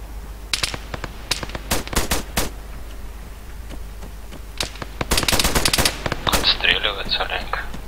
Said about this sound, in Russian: Отстреливается